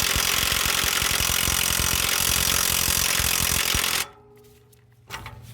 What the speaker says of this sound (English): I'm using like a DeWalt 3/8 inch impact, electric impact gun.